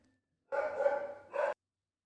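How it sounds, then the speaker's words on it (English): Dogs barking outside, two muffled, fairly distant barks in quick succession, faint against an otherwise quiet indoor room. "some dogs started barking outside, so it was distracting"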